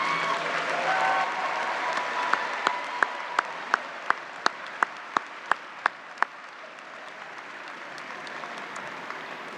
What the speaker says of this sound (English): How about giving them a round of applause while we're waiting for everybody to get back to their seat?